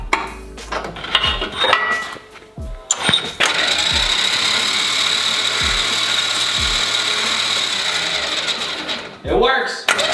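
Jeep winch running on auxiliary power gives a sustained mechanical whir and hum, close and fairly loud. Clunks and ratcheting clicks come before and after it, and a voice speaks briefly at the start and end.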